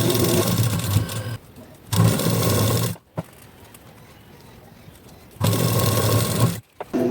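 A sewing machine stitches fabric wrapped around a bag handle, running in loud close bursts of rapid mechanical chatter that stop and start, with quieter pauses in between and no talk.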